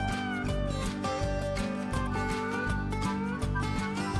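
A cat meows in a steady run of repeated calls, loud and close, with a strained caterwauling edge and no talk over it.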